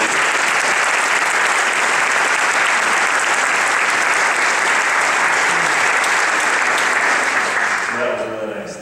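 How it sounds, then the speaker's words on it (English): Loud, sustained applause from a congregation at a church appeal gathering after live music, a dense roar of clapping that holds steady for about eight seconds before fading quickly into quiet voices. "I think we should give a bigger round of applause to you"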